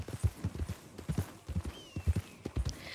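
Horse hooves clip-clop at a steady walking rhythm in the Red Dead Redemption video game, a series of regular, fairly close thuds with no talking over them.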